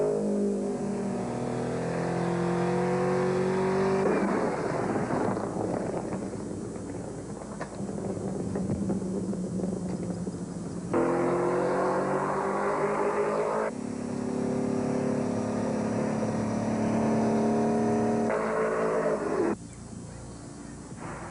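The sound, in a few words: Porsche racing car driving around the track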